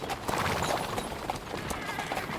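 Horse hooves clip-clop steadily as a rider travels in the video game Kingdom Come: Deliverance 2, with a rhythmic beat under dense game ambience.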